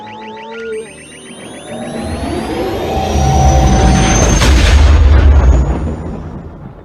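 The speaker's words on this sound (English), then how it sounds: "We need to avoid the mortars dropping" Mortar rounds dropping and exploding in Planet Coaster, with whistling descents followed by heavy booming blasts that build into a loud rumbling barrage, no talk.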